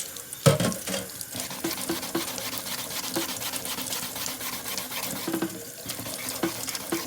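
Steady running cold tap water splashing into a sink, with occasional sloshes and knocks as a sponge is rinsed under the stream.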